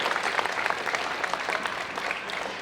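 A crowd applauds a speaker at a March for Life rally in Brisbane, dense continuous clapping from many hands, loud and close throughout.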